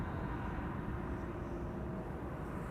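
A KLM Boeing 777-300 at Amsterdam Schiphol gives a steady, broadband engine roar that holds at an even level throughout, with no voices over it.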